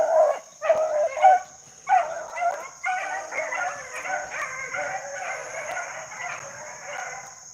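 A pack of beagle hounds bays and barks while running a rabbit, overlapping yelps and bawls at moderate distance, loud at first and then a continuous chorus over a steady high insect drone.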